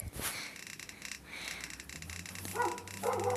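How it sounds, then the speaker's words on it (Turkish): Somewhere downstairs a dog barks in a few short, muffled bursts heard from a distance, with the barks bunching up in the last second. "Aşağıda köpek havlıyor."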